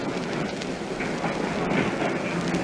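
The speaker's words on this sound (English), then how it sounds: "There's a train just going out now." Underground train pulling out of a London Underground station, a steady broadband rumble and rolling rail noise building slightly over a couple of seconds, fairly close and continuous with no talk.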